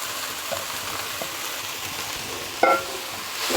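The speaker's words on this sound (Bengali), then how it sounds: "এখন আমি দিয়ে দেব সরু করে কেটে রাখা মূলার শাক।" Thinly sliced radish greens dropped onto fried onions in a hot pan, giving a dense, even hiss that swells briefly near the end with a sharper crackle.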